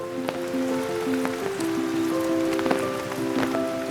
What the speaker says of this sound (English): The sound of raindrops,